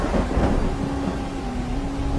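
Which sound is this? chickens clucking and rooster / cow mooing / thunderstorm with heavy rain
thunderstorm with heavy rain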